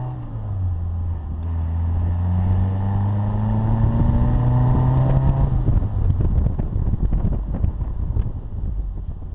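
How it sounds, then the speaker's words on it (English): A 1961 Bugeye Sprite 948 engine revs up with rising pitch, then drops back and rumbles roughly, loud and close with wind buffeting. "the car revs really nicely"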